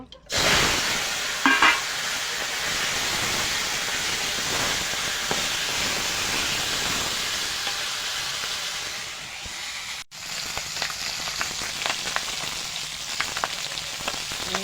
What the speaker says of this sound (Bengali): তেলটা গরম হয়ে গেছে, এবার মাছটা ভেজে নেব।